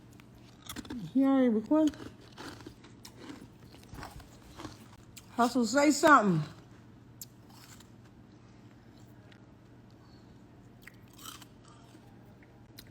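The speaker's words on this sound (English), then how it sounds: "I'm chewing ice." Ice is chewed close to the microphone, with intermittent crunches and bites that fall between two short bursts of conversational speech, over a low steady hum.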